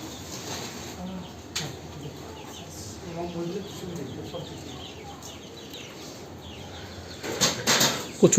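Chickens cluck softly in the background as heavy rainwater floods into their coop, then a burst of wing flapping near the end, with a person talking and dripping water throughout.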